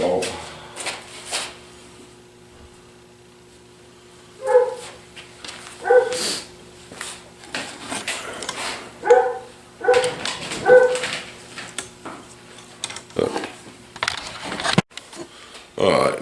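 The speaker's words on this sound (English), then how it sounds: "daggone deer dogs are cutting up and acting a fool, but they're ready to eat" Hunting deer dogs bark, yip and whimper in short excited bursts, close by and repeated through the stretch, with someone talking at times and a motor humming underneath.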